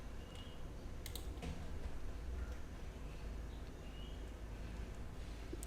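Mouse clicking and keyboard taps at a computer while installing macOS Tahoe Beta in a VMware virtual machine, light scattered clicks over a steady low hum.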